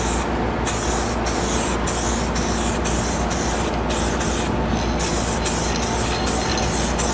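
Spray paint can hissing steadily as a second coat of green pearl paint goes on, a continuous close, loud spray with brief pauses and renewed bursts.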